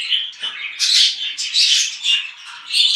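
Parrot chicks and their parents squawking in a rapid string of harsh, high calls, loud and close, with no voices around.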